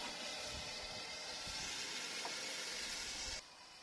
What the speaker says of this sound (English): What I do is I just put a bit of water in and steam it up.